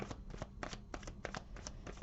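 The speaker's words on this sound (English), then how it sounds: "I think I will just give this a little bit of a shuffle." A deck of oracle cards is shuffled by hand, giving quick, rhythmic papery riffles in close, quiet bursts with no talking.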